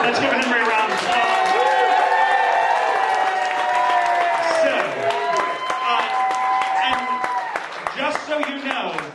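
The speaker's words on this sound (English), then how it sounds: "let's give Henry a round of applause" An audience claps steadily at a theatre evening of serial plays, the applause mixed with strong tonal voices or cheering for most of the stretch before easing toward the end.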